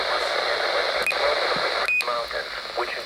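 Radio signal coming through an Icom IC-R20 handheld receiver with its attenuator engaged, a steady hiss-laden broadcast with faint voice-like content and a couple of brief beeps, fairly even in level throughout.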